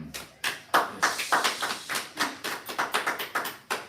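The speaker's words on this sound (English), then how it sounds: "So we can most definitely clap it up for that" A live talk-show audience claps in a sparse patter of distinct, spaced hand claps, moderately loud and close, with no voices.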